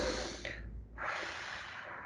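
A deep breath taken close by as part of a grounding technique, a sharp inhale followed by a pause and then a long, steady exhale, quiet and alone.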